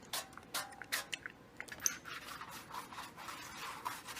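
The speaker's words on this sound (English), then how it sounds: "And I'm going to grease my pizza pan." Quiet, close rubbing and scratching strokes of oil or grease being spread across a metal pizza pan by hand, in a series of short irregular swipes with no talk.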